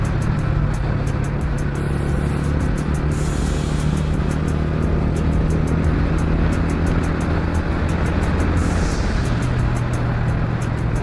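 A TVS Ronin 225 TD Special Edition motorcycle engine runs loud and close as the throttle opens, a steady, full drone with wind roar held through the whole stretch and no voices over it.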